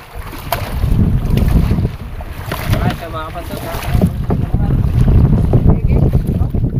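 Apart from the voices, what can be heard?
boat ride with wind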